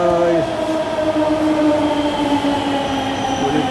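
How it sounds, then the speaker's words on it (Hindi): A metro train pulls into a station on the Rajiv Chowk route to Gurgaon, a loud rumbling approach with high metallic brake squeals and tones that slide and fade as it slows. "मेट्रो आ गई गाइस"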